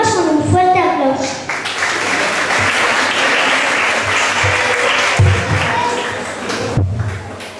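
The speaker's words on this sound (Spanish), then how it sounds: "Los recibimos con un fuerte aplauso." Loud, sustained applause from an audience at a school end-of-year event, a dense wash of clapping that swells and continues for several seconds, with a few voices mixed in.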